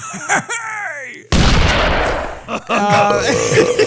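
A voice mimics rapid gunfire, a harsh noisy burst of about a second and a half that breaks off and then resumes, with speech before and after it.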